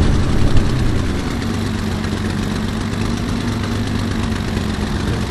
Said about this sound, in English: under the cover and start the engine.